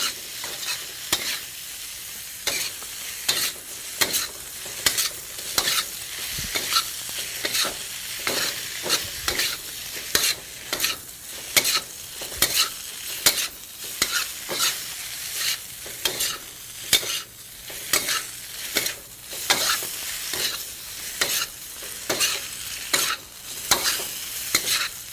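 Curd and spices fry in a pan for a vegetarian scrambled-egg dish, with a steady sizzle under repeated, rhythmic scraping strokes of a spoon being stirred through the mixture, close and clear.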